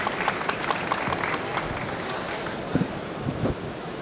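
Audience applause for a speaker being introduced at a banking technology conference panel, a sustained wash of clapping with crowd noise running throughout, fairly close and steady.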